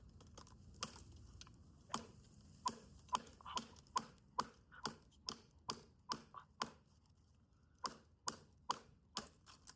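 Repeated sharp chopping strikes of a Bowie-style knife cutting off a tree branch land in a steady rhythm, close by and fairly loud, each a crisp woody knock with a short decay.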